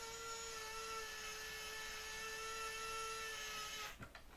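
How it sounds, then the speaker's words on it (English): An electric screwdriver drives screws into an aileron control horn on a Kadet Senior model aircraft wing, giving a faint, steady high whine for about four seconds before it cuts off with a small clatter. "about this electric screwdriver is you can get it in place and then just press the button and away it goes"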